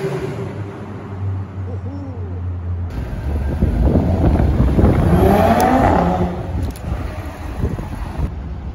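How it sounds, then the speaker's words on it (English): Brabus G-Wagon pulling away from the FITTEDUK 2022 car show in pouring rain, a loud engine rise and roar over heavy wind buffeting on the microphone, with a few distant hoots and crowd noise around it. "Brabus G-Wagon."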